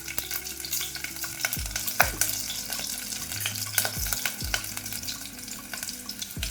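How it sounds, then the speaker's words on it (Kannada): Slit green chillies fry in hot oil with mustard seeds, a soft steady sizzle broken by a few sharp stirring scrapes, with no talk over it. "ಸಾಸಿವೆ ಎಲ್ಲ ಚಿಟಪಟ ಅಂದಮೇಲೆ ಒಂದು 3 ಹಸಿಮೆಣಸಿನ್ಕಾಯಿ ಈ ಥರ ಉದ್ದುದ್ದ ಸೀಳ್ಬಿಟ್ಟು ಹಾಕ್ಕೊಳ್ತಾ ಇದ್ದೀನಿ"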